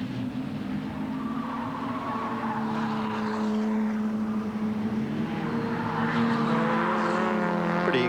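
Production race cars lapping Amaroo Park in a 1988 AMSCAR Series round give a steady, droning engine roar, several cars blending into one sustained note that rises in pitch and intensity as they pass, heard from a moderate distance without any talking.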